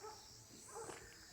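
Dogs bark faintly and far off in a small hill village set in forest, just a few distant yelps under a steady outdoor hiss.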